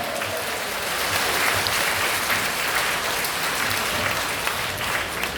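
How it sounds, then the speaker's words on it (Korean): Steady applause from an audience at a church gathering, a dense wash of many hands clapping continuously and fairly loud throughout, with faint crowd murmur beneath. "뜨거운 박수를 보내주시면 고맙겠습니다"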